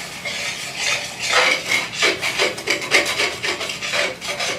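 A utensil scrapes and rubs repeatedly across the bottom of a hot pan during deglazing, close and rhythmic, a steady series of gritty strokes with no talking.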